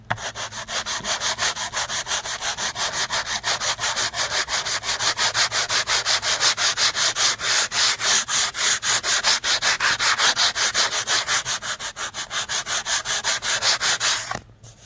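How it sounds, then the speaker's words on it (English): A power sander works over a stained wooden deck to strip blotches, making a loud, steady rhythmic scraping rasp that runs close and continuous for most of the time before stopping. "Okay, so I got the sander."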